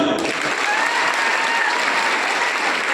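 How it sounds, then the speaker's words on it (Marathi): Crowd of village heads and supporters at an OBC community gathering breaking into steady, dense applause that fills the whole stretch at an even, fairly loud level. "ओबीसीच्या नावाने टाळी वाजवू."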